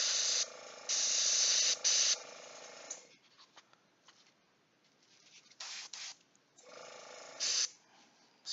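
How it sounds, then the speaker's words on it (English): Airbrush spraying paint onto a Rumbleslam Deadly Divas miniature, steady hissing bursts of air and paint that start and stop several times, close and fairly loud, with quiet gaps between. "burst there from the airbrush"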